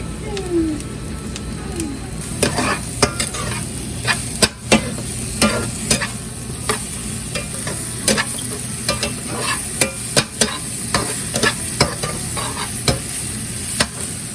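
Mushrooms stir-fried in a pan for omurice in a small home kitchen: a steady sizzle with repeated sharp scrapes and clacks of a utensil against the pan, close and fairly loud throughout.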